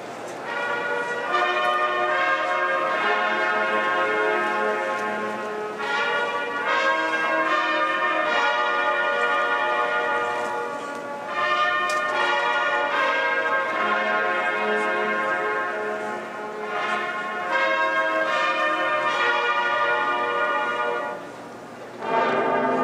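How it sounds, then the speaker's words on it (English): Ohio State University campus chimes ring at a football pregame before Ohio State vs. Michigan State, a sustained sequence of loud, resonant bell tones with overlapping harmonics and short pauses between phrases. "The sound of the campus chimes introduces the Ohio State University alma mater"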